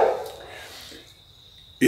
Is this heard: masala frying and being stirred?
no